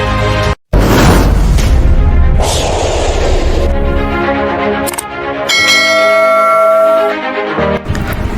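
A loud chiming bell effect rings out with a sharp crash and rumbling boom, then bright sustained tones ringing and fading over several seconds, with no voices.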